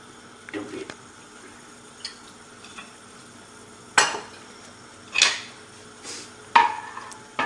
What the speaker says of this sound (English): And you just want to keep on scrambling it until it's completely, all the liquid's kind of gone.